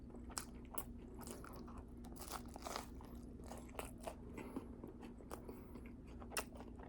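Someone bites and chews Totino's frozen pizza slices during an eating challenge, a quiet close series of crunchy bites and crackly chewing with irregular soft clicks and no talk.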